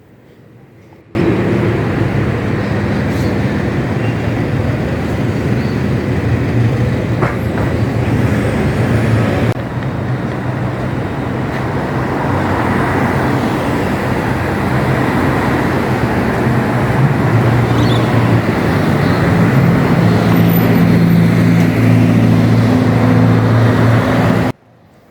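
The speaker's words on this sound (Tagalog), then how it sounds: "At tingnan nyo naman yung trams, dumadaan talaga siya sa gitnang highway." Busy Gold Coast highway with trams running down the middle and traffic passing, a continuous loud road rumble with low engine drones swelling near the end and no one speaking.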